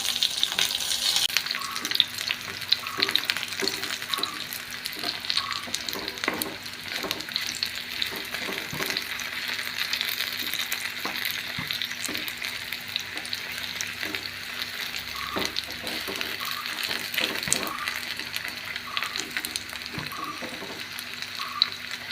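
Brinjal slices frying Kerala style in a pan with curry leaves give off a steady close sizzle, broken by regular scraping strokes of stirring throughout.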